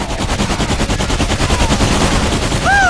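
Rapid, dense automatic gunfire from the video game Bulletstorm, a loud continuous rattle of sustained bursts filling the scene, with a rising whistling tone cutting in near the end.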